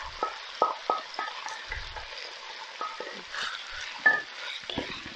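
Onions frying in lard in a pan, a soft, quiet sizzle broken by scattered scraping stirs and light clinks of a utensil against the pan.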